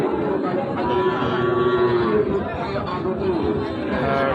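Cattle low and moo amid a busy crowd at a livestock market in Raniganj, with people chattering and talking over the animals close by.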